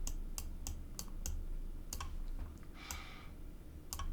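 Computer keyboard typing during C++ coding, scattered sharp key clicks in irregular bursts, fairly quiet and close with a low room hum underneath.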